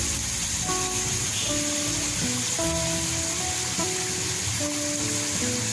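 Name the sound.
mustard paste sizzling in pan while cooking hilsa fish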